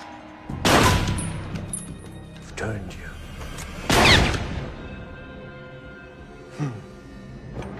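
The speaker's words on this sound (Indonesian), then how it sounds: "dengan tembakan yang selalu meleset" Two loud gunshot-like blasts roughly three seconds apart in a zombie film, each with a booming decay, amid film soundtrack noise and a fainter thump near the end.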